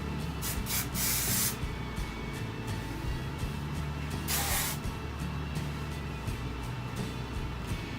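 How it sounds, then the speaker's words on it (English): Hairspray hisses from an aerosol can onto hair while small tight curls are styled, with several short sprays and two longer bursts, close and clear, without talk. "Now I'm just going to apply a little bit more hairspray."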